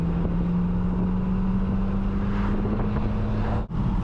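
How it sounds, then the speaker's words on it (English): A 1985 Nissan 720 pickup engine-braking during break-in in third gear: a steady, loud low drone of engine and road noise with wind rush, no talk, holding evenly throughout. "go up to like this speed and then let it engine brake"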